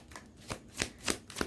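Tarot cards being shuffled, about five soft papery riffles and slaps in quick uneven succession, faint and close.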